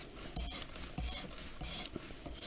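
A grafting knife is stroked across a whetstone in repeated rasping passes, about four strokes with short pauses between them, close by with no voices.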